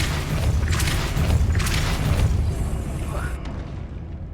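A Depulso spell is cast in the Hogwarts Legacy video game, giving a loud, booming burst of force over a dense game soundscape, with whooshing swells and a rumbling low end across the moment.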